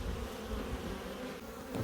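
Honey bees buzz steadily in a colony, a dense, continuous droning hum at close range with no pauses.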